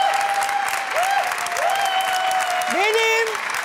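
Sustained audience applause fills a Turkish daytime TV studio show as a singer is welcomed, with the host's voice calling out over the clapping throughout.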